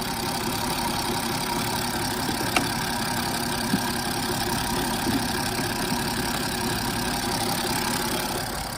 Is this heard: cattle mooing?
no